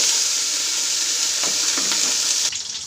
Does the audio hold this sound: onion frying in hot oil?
yes